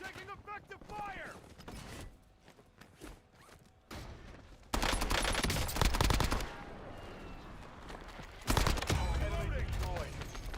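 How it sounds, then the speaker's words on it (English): Bursts of automatic gunfire and scattered shots in a multiplayer shooter video game, loud and dense in the second half with heavy rattling volleys, under intermittent radio-style voice callouts. "Taking effective fire!"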